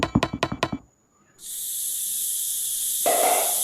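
A handheld sprayer coating a Christmas tree lets out a steady, loud hiss that runs unbroken for about two seconds, following a quick series of four sharp knocks.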